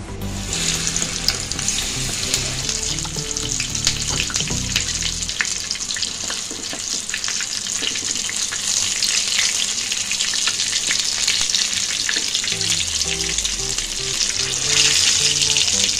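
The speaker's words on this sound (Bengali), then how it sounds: "এরকম বাদামি করে আপনারা মাশরুমগুলো ভেজে নেবেন।" Mushrooms frying in oil in a pan, a loud, continuous close-up sizzle and crackle that holds evenly throughout with faint stirring movements.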